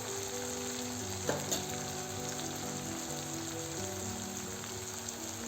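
Turmeric and chili powder sizzle in hot oil with cooked tomato in a pan for sprouted moth bean usal, a steady soft crackling fry with a couple of faint stirring clicks.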